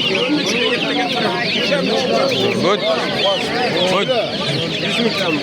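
A dense chorus of many chickens clucking and squawking nonstop at a poultry market in Namangan, loud and close, with a brief word spoken amid the busy crowd noise.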